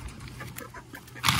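Backyard chickens cluck softly while pecking poultry treats from a hand, short low calls scattered through a brief close clip, with a louder rustle or flutter at the end.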